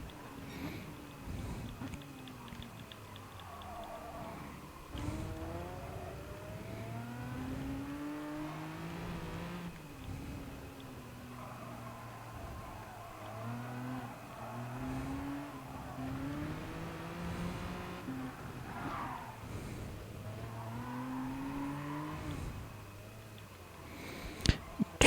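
A GTR race car engine in Gran Turismo Sport drones fairly quietly, rising and falling through repeated gear changes, with a few sharp knocks and a louder burst at the very end.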